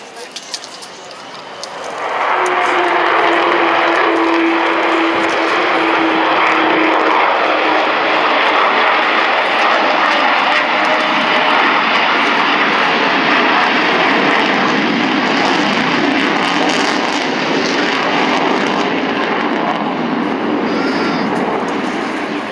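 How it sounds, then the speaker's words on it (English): An Avro Vulcan bomber with four Rolls-Royce Bristol Olympus 202 engines roars past, swelling within a few seconds into a loud, sustained howling engine roar that holds steady for nearly twenty seconds. "a very brief sound of the famous Vulcan howl, the noise produced by those four Rolls-Royce Bristol Olympus 202 engines"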